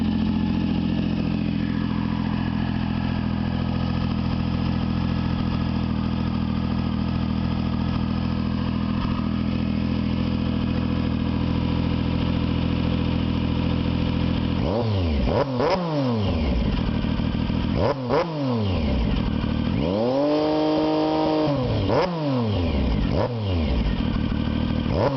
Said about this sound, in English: I like that this pipe is throaty, but it's not too crazy loud.